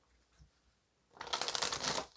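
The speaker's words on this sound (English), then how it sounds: "So let's give this a shuffle." Tarot cards shuffled in a quick riffling burst after about a second of near silence, a dense crisp flutter of cards that runs to the end.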